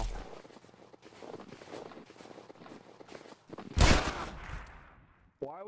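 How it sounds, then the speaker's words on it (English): Gunfire from a WWII video game: scattered quiet shots and movement noises, then a loud burst near the end, with faint voices underneath. "Jackson's gunning us down."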